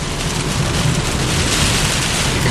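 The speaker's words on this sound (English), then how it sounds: "rain blowing here over the lamps. There are some gusty winds now." Heavy rain from Tropical Storm Ernesto pours down steadily during its Florida landfall, driven by gusty wind into a constant, dense, close hiss with no voices.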